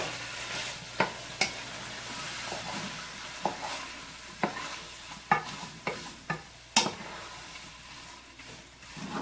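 A spoon scrapes and knocks around a pot of chili made with browned sirloin, hamburger meat, tomato paste and chili powder, giving a steady soft sizzle broken by about ten sharp clinks and scrapes at uneven intervals.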